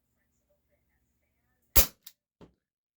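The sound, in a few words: GAMO PT-80 air pistol firing an 8.44 grain pellet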